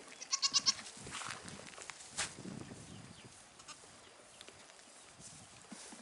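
Young goats bleating faintly at a distance, with a few short cries early on, then soft shuffling, rustling and scattered thumps in a quiet barnyard.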